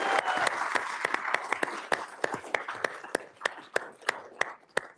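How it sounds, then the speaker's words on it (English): A conference audience claps for the organizing team, a thinning patter of individual claps that slows into scattered, distinct hand strikes toward the end. "We start by giving Brad Bernthal and the whole Silicon Flatiron team a big round of applause"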